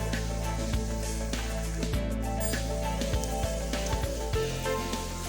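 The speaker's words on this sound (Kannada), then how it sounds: "ಈಗ ಇದು ಚೆನ್ನಾಗಿ ಫ್ರೈ ಆಗ್ತಾ ಇದೆ" Hibiscus leaves and flowers frying in oil for homemade hair oil, a dense continuous crackling sizzle, close and steady, with no voices.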